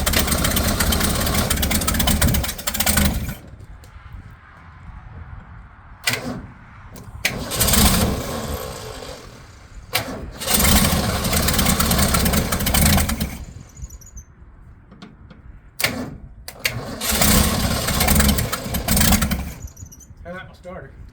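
A 1965 Ford Mustang engine under restoration cranks and catches in several loud attempts, each burst running a few seconds before falling away, with people talking in the quieter gaps.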